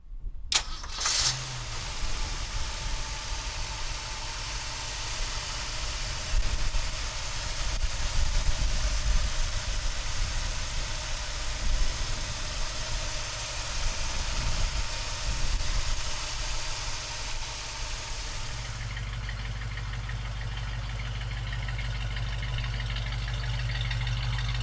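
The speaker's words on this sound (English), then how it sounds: "So come on up and let's fire it up." A 1968 Ford Mustang Bullitt with a 390 V8 cranks and fires up, then settles into a steady, rumbling idle that runs on, close and loud.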